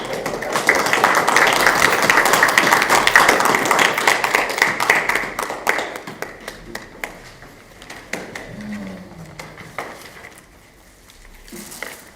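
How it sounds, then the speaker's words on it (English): Round of applause at a Board of Trustees meeting, many hands clapping steadily for several seconds, then thinning to scattered claps and fading, with a brief voice near the end. "One more round of applause"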